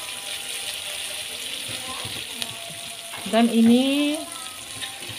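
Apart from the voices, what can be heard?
stirring and sautéing smoked fish sambal in a pan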